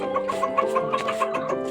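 Chickens cluck steadily and close by while pecking at leaves, a dense run of overlapping short calls with no talk.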